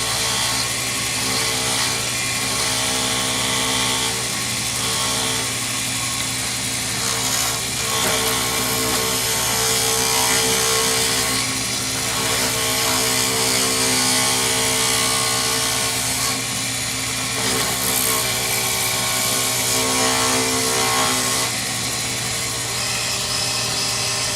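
A wood lathe turns a faux stone pen blank under a skew chisel, making a steady loud hum with a continuous broadband cutting hiss and slight swells, and no talking.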